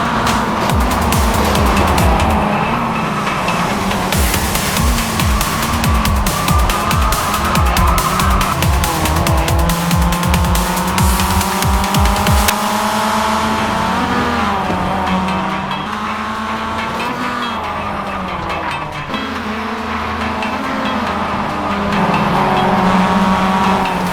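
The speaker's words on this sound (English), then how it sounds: "cars running inches apart at full throttle" Mazda MX-5 Cup race cars at full throttle in a close pack at Daytona, a loud continuous multi-car engine roar with shifting pitches as cars pass, brief tire squeals mixed in, steady and near throughout.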